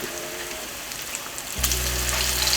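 Zucchini fritters with Parmesan sizzle in a pan after being flipped, a soft fry that swells abruptly into loud, steady crackling partway through, close up with no talking.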